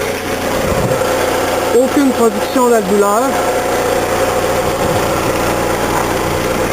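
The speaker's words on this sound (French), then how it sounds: "La voiture est actuellement démarrée." 2004 Honda Civic Si with an HHO hydrogen gas conversion, idling with a steady low engine hum under someone speaking.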